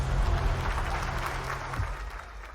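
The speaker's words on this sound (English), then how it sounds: "Applause." An audience applauds as Taylor Swift is introduced, a steady, fairly loud wash of clapping with a low hum beneath that fades slightly toward the end.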